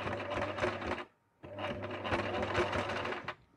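A sewing machine runs a short holding seam on a Christmas stocking, humming steadily in two bursts split by a brief pause.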